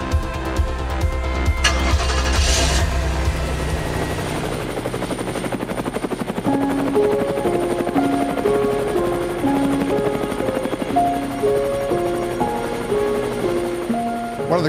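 Helicopter rotor noise on a ride over Manhattan, New York City, thumps low and heavy at first, then fades under a backdrop of tonal music that carries on to the end.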